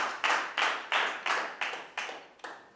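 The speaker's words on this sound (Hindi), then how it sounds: "आपकी इनके लिए भरपूर ताली बजाएं।" A classroom claps for a student in a burst of about seven even, rhythmic group claps, close and crisp, with no talking over them.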